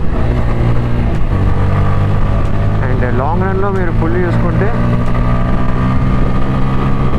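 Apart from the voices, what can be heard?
motorcycle engine while riding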